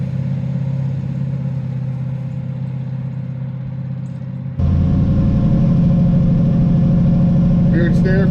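A twin-turbo Camaro drives on a street, its engine a steady, loud low rumble that jumps in level partway through and stays close, with light clatter over it.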